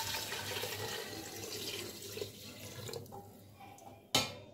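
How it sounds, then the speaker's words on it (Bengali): Water poured into a pressure cooker holding rice and lentils, a steady splashing and trickling stream, close and moderate in level, ending with a brief clunk. "এবার জল দিয়ে দিব।"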